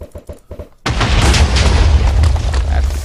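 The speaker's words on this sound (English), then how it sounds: "So yeah, these are grenades when you throw them" A Thaumcraft grenade thrown onto cobblestone in modded Minecraft explodes with a sudden loud boom, followed by sustained rumbling blast noise after a brief stretch of speech at the start.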